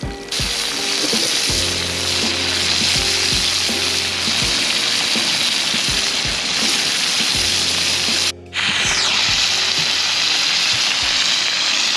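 Fresh clams cook in a pan for pasta with clam sauce on an outdoor stove on Mugu Peak. A loud, continuous sizzle and crackle runs throughout with a faint mechanical hum underneath, and it cuts out briefly once near the end.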